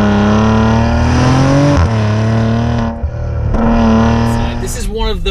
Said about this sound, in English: This is one of the few turbocharged engines, which is actually a relatively small engine, that actually they've managed to sound really good.